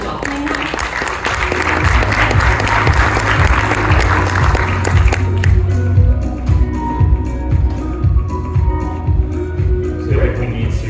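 Loud, sustained applause from a conference audience welcoming panel speakers, dense clapping that swells over several seconds and then thins into scattered claps as it tapers off.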